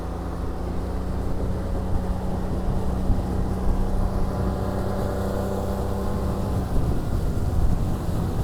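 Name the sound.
motorboat engine running on plane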